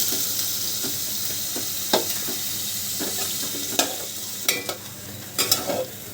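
Potatoes are stirred through a spice paste frying in oil, a steady sizzle broken by several scraping knocks of a spoon against the pot, the clatter growing busier toward the end.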